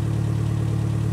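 A Jeep TJ fitted with a TDI diesel engine idles steadily up close, giving a low, even drone with a slight knocking pulse and no other sounds over it.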